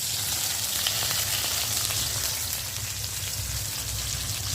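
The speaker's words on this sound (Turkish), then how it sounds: "Şöyle soğanlar da pişsin." Onions sizzle steadily on a barbecue grill at a family weekend cookout, a dense, even crackle that stays loud and constant throughout with no voices.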